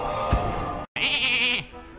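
In Hearthstone, the polymorph spell turns a minion into a sheep, which lets out a short bleat with a quick magical chime. The sound is loud and clear, with no talking.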